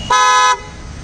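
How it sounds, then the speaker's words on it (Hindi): Skoda-type trumpet horn fitted to a 2018 Suzuki Swift gives a single loud, bright honk lasting about half a second, close by, then cuts off to quiet background. "इनका जो कन्वेंशनल हॉर्न आता है गाड़ी के साथ में, वो हमने चेंज करके इसमें स्कोडा टाइप का हॉर्न लगाया है।"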